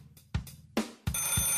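A telephone bell rings in a few separate bursts, each a loud metallic trill that starts sharply and sounds close. The last burst runs longer, and no one speaks.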